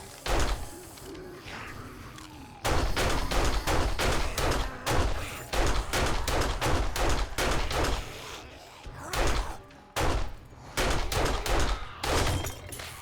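Rapid bursts of gunfire from a weapon in Seven Days to Die, loud and close, firing in repeated volleys with brief pauses between them over a thudding background.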